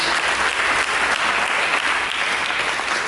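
A church congregation applauding during a sermon, a dense, even wash of many hands clapping together, loud and sustained for the full three seconds with no break.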